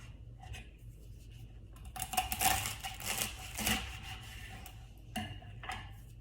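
A knife slicing through pieces of toast for shakshuka, giving dry, raspy scraping and crunching strokes close up, strongest in the middle of the clip, with no talking.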